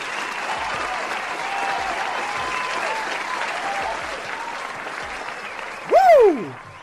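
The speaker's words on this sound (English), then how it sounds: "Let's give him a hand clap" Crowd applause at an online live trading session, a steady, continuous wash of clapping that runs evenly for several seconds before a loud whoop or cheer rises sharply near the end.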